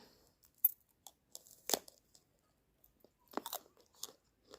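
Someone crunching sweet, crisp Albanian jujube fruit up close: a few sharp bites and crunchy chews separated by quiet pauses, with no talking.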